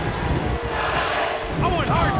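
Roaring arena crowd noise from the wrestling game WWF Attitude on Sega Dreamcast, a steady dense cheer filling the whole moment while a commentator's voice speaks over it.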